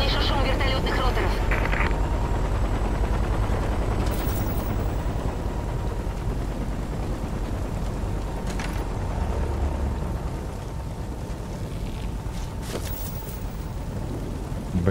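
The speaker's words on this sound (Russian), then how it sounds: "Я слышу шум вертолетных роторов." Helicopter rotors thrum in the Singularity video game, a steady loud broadband roar with low chopping rumble that persists throughout, with brief sharp bursts scattered over it.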